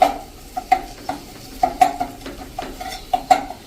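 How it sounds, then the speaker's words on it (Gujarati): A spoon stirs a garlic paste into hot oil in a pan over a low flame for a black-eyed bean curry, with a string of close metallic scrapes and clinks over a soft, steady sizzle. "અને આને આપણે સાંતળવાની નથી, ખાલી તેલમાં જ અત્યારે મિક્સ કરીએ છીએ."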